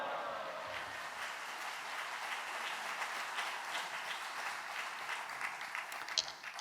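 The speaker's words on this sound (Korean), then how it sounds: "선교사님을 박수로 환영하시겠습니다" A church congregation at a Korean men's fellowship service applauds to welcome a visiting missionary. The clapping is steady, soft and slightly distant, and it holds evenly for several seconds.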